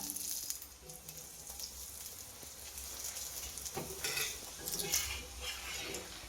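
Methi dhebra, fenugreek flatbreads, fry in a pan on low gas as oil is drizzled around them, giving a soft, steady sizzle with a few light clinks of utensils and pan.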